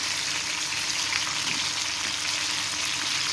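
Apollo fish frying in oil gives a dense, continuous hiss of sizzling, steady and close with no pauses or voices.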